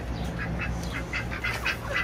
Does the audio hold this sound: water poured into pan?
no